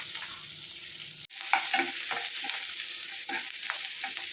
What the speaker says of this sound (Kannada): ನಂತರ ಒಂದು ಪ್ಯಾನ್ಗೆ ಎರಡು ಸ್ಪೂನ್ ತುಪ್ಪ ಕರ್ಬೇವಿನ ಸೊಪ್ಪು ಈರುಳ್ಳಿ ಬೆಳ್ಳುಳ್ಳಿ ಮೆಣಸು ಜೀರಿಗೆ ಮೆಣಸಿನ್ಕಾಯಿ ಎಲ್ಲ ಹಾಕಿ ಫ್ರೈ ಮಾಡ್ಕೊಳ್ಳಿ